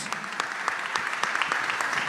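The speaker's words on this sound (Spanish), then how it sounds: "El aplauso para ella, claro, vamos" An audience at a young Argentine entrepreneurs awards ceremony applauds Malena with steady, full clapping and some crisp individual claps, close and continuous with no voices over it.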